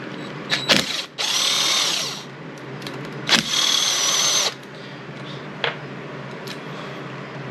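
A handheld power tool whirs in two sustained bursts, each about a second long, with short clicks and taps between them, as small bolts come out of a 2010 Ski-Doo Summit 800X snowmobile engine during teardown.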